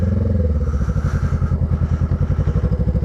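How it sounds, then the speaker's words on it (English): Honda Rebel 500 motorcycle engine idling nearby with a steady, low, rhythmic thumping pulse, loud and close, with faint mechanical clatter and no talking. "It's definitely not a slouch of a motorcycle."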